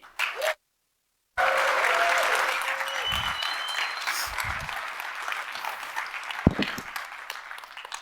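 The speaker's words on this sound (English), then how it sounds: "the great cheer that we're going to give to Core DMC" A large audience at a startup event breaks into sustained applause and cheering after a brief silence. The clapping is loud and dense at first, then slowly tapers, with a few sharp bursts near the end.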